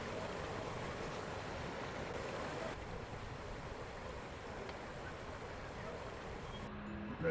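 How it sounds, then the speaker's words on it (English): A small river rushes past village houses, a steady broadband wash of flowing water that holds at an even level throughout and sounds close by. "the sound of rushing water can be heard in the houses here"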